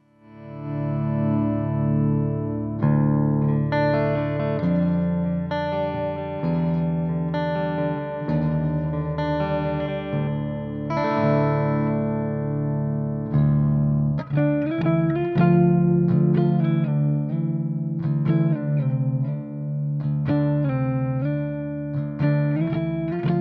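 A Cort KX300 electric guitar with a clean tone plays a run of chords and single notes, ringing with a light shimmering, chorus-like effect.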